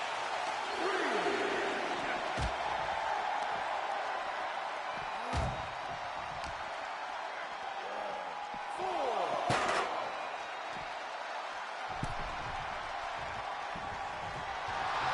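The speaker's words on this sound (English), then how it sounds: "The sound of this crowd is deafening" Game arena crowd in a WWE 2K23 wrestling match, a steady roaring wall of fans with swells of cheering, sharp slams and impacts against a barricade, and commentary talk running over it throughout.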